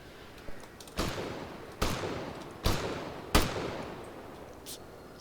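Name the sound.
AI squad gunfire in a combat video game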